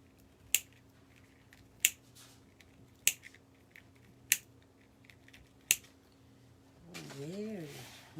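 Scissors slowly cut through deco mesh for a craft flower: five sharp, evenly spaced snips, close and distinct over a quiet background, followed by a short stretch of speech.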